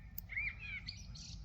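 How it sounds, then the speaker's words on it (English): Small birds chirp and tweet beside a carp fishing lake, with short whistled calls standing out over a steady low outdoor rumble, no voices. "You know, the birds singing,"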